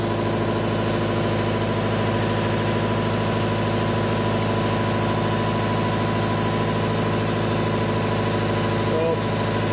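A ReGen-X motor and a universal motor run together in a power-generation test setup, producing a steady, unbroken electric hum with a constant whine and no change in speed throughout.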